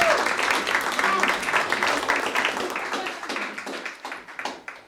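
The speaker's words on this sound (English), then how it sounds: "or just go ahead and clap." An audience claps at a tech event, a fairly dense round of applause that thins and fades toward the end.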